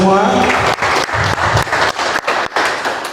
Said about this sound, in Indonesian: Dan kita beri tepuk tangan dulu semua.